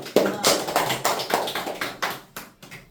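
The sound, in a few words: applause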